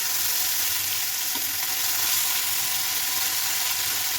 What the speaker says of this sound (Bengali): মাছের ভাজিটা এখন একটু উল্টায় দিতে হবে।